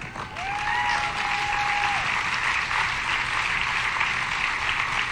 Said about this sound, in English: Well, you're applauding,